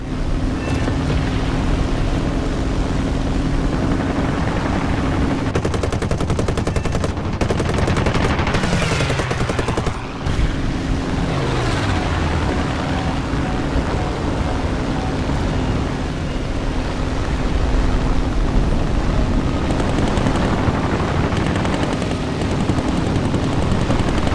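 Continuous machine-gun fire from aircraft in the War Thunder air combat game, aimed at an enemy bomber, with steady engine drone underneath and bursts of gunfire running loud throughout.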